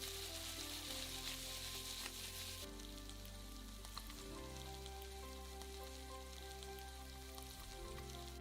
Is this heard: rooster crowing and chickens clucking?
no